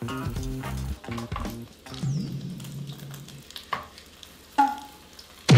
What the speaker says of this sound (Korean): 계란물이 지금 많이 남았으니까 진짜로 한번 부쳐보자고요